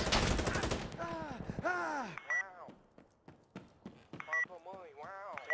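Gunfire in the video game Insurgency: Sandstorm, with a rapid automatic burst at the start and then scattered single shots. A voice cries out repeatedly over the shots.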